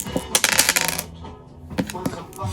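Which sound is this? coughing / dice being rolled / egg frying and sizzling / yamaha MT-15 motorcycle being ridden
dice being rolled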